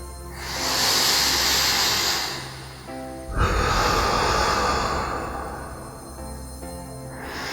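A man's slow, heavy breaths: a long hissing exhale, a pause, then another drawn-out raspy breath, close and steady under a faint tonal hum.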